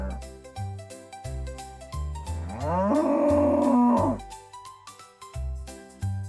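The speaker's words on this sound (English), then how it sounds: "This is a cow." A cow moos once in a long, rising and falling call over a cheerful children's melody with plucked bass notes; the moo is loud and close and stands out mid-clip.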